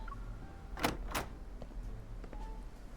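A door swinging open in the romance game Love & Deepspace: two quick swooshing slides in close succession over a low steady hum, followed by faint small clicks.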